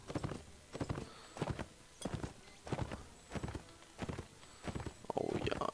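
Horse hoofbeats from riding in the Mount & Blade video game, a steady clip-clop rhythm of evenly spaced thuds repeating about every half second, fairly close, with no talk over them.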